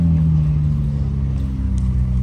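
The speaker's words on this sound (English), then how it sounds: "our friend just came with the McLaren Sabre" A McLaren Sabre hypercar's engine rumbles steadily at close range, a deep continuous drone with no voices over it.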